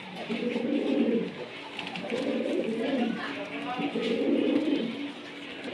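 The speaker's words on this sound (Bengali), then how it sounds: "ভিউয়ার সিঙ্গেল কিছু কবুতর দেখাবো আমরা।" Kashmiri Mushaldam pigeons coo close by in a series of low, rolling, throaty calls that repeat in waves, filling the whole stretch with steady cooing.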